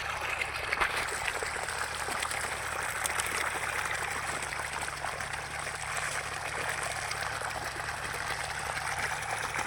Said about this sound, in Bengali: এই যে জল বেরোচ্ছে।